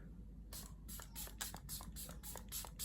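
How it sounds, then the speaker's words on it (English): Quick pumps of a face mist spray serum hiss close by, about a dozen short bursts in a steady rhythm over a faint background hum. "I might just put on some spray"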